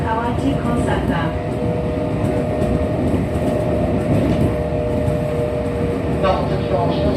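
A Kintetsu 1233 series commuter train, set VE46 on a semi-express service, runs with a steady loud rumble and roar heard from inside, with faint rail clicks and occasional squeals over the continuous noise.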